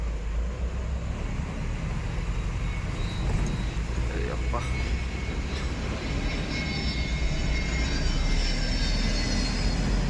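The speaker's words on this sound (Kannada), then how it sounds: "ನಿಮಿಷಕ್ಕೆ ಎರಡು ಎರಡು ಮೂರು ಮೂರು ಫ್ಲೈಟ್ ಬರ್ತವೆ ಗುರು ಇಲ್ಲಿ" A fixed-wing airplane passes overhead near an airport handling international and domestic flights, a broad steady roar that swells slightly toward the end, heard from the roadside amid traffic noise.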